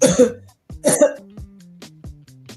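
A person coughs twice in harsh bursts, followed by a few quieter throat sounds, close and loud.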